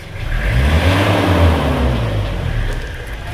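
A Toyota Kijang diesel engine, burning oil and puffing thick white exhaust smoke, revs up loudly and steadily close by, its low rumbling drone holding strong for several seconds.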